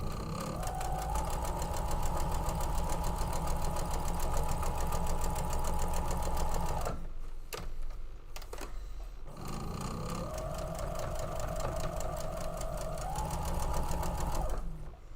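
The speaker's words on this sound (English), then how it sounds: "now we just sew the top and the bottom half together" A sewing machine joins the top and bottom halves of a quilt block, running in a long steady mechanical whir, pausing briefly with small clicks, then resuming at a similar loud, close hum.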